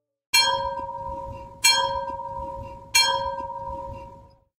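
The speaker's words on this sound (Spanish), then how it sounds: "escuché 3 campanadas del vigía" A ship's lookout bell on the Titanic strikes three times at slow, even intervals, each clear ringing tone fading before the next.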